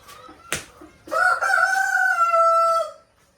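A rooster on a farm in Ghana gives one long, loud crow close by, after a brief cluck and a sharp sound.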